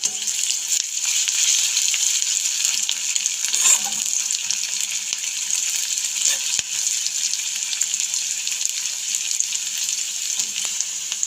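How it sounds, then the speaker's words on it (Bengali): Onions frying in a pan until golden, a continuous close crackling sizzle that holds steady throughout, with a faint clink near the middle and no voices. "একদম গোল্ডেন কালার আসা অবধি পেঁয়াজটা ভালোভাবে ভেজে নেব।"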